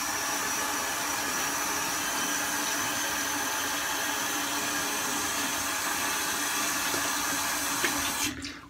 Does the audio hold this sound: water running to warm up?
yes